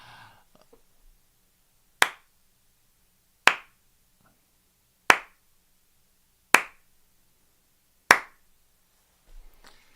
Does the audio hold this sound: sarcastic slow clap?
yes